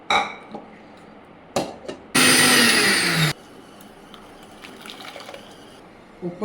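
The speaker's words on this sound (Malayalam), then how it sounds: "അപ്പം നമുക്കിത് മിക്സിയിൽ അടിക്കാം." Mixer grinder blending cooked spinach for a soup, a loud dense whirring burst lasting about a second, set between quieter kitchen clatter and handling noises.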